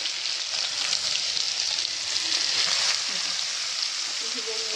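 Garlic sizzling in hot oil as a tempering for brinjal curry, a loud, dense and continuous frying hiss close by, with occasional faint stirring underneath.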